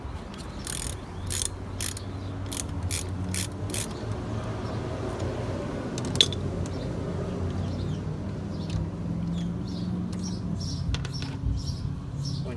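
A ratchet clicks in quick bursts of rapid pawl ticks while loosening a brake caliper bolt on a Can-Am ATV, close and crisp over a low background hum, with a few scattered clicks later.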